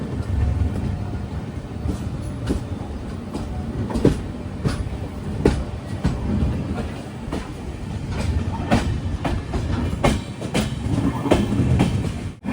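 The Sindhudurg Express on the Konkan Railway rolls along in heavy monsoon weather, heard from inside a general class coach as a steady low rumble with repeated clickety-clack wheel beats over rail joints; continuous and fairly loud.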